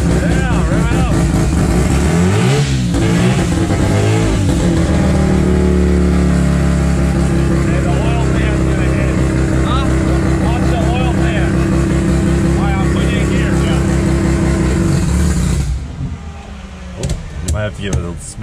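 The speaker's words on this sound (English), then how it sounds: "Give it a smidge of throttle, just to keep it lit." A rotary-swapped car engine idles and revs loudly in neutral under light throttle for about fifteen seconds, a steady droning roar with rising and falling pitch, then drops to a rougher idle as voices speak nearby.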